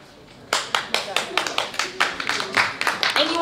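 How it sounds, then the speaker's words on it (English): Audience clapping at a mental health awareness panel discussion, a short round of applause that starts abruptly and carries on steadily close by, with someone talking through it. "you really don't have to clap after everybody says something"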